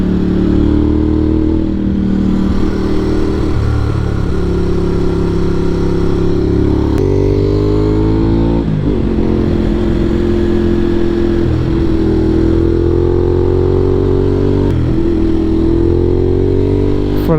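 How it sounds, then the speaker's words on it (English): A Ducati Hypermotard motorcycle accelerates hard and close, its engine note climbing through repeated gear changes with brief dips between pulls, loud and continuous throughout. "This makes you giggle like a little girl every time you accelerate."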